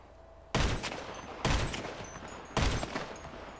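Gunfire in GTA 5 Online, three loud, close bursts of rapid shots at roughly one-second intervals, each fading into a rumbling tail, with no voices over them.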